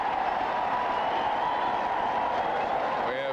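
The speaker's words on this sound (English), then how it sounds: "We have some crowd reaction to an announcement by the PA man." A stadium crowd at a 1986 New York Giants NFL football game reacts to a public-address announcement, a steady, dense roar of many voices that holds at an even loudness throughout.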